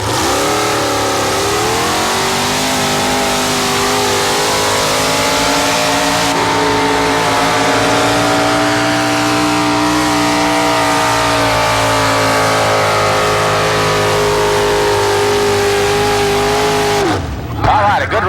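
A 1987 tractor-pulling tractor roars at full throttle, loud and sustained as it drags the weighted sled down the track, the engine note climbing then holding steady before cutting off abruptly near the end.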